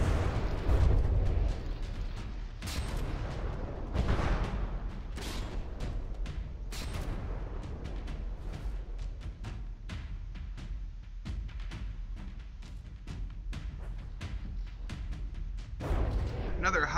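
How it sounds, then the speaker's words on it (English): Warship artillery in the From the Depths naval combat game during a tournament battle, with repeated heavy booming shell fire and impacts recurring across the stretch over a rumbling background, with speech also present. "Another high plunging fire shot managing to hit the rear quarter of the Flying Dutchman"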